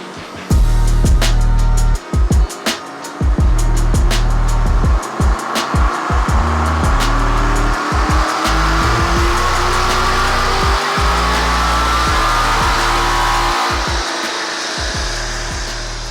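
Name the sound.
Aston Martin V8 Vantage engine revving during dyno pull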